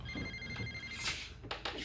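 A phone rings with a bright electronic ringtone, repeating tones under soft movement and background noise, fairly close.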